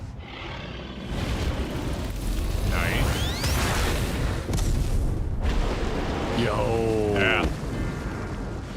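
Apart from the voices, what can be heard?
explosion in Final Fantasy XIV video game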